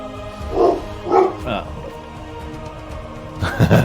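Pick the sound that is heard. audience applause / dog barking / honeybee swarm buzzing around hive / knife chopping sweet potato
dog barking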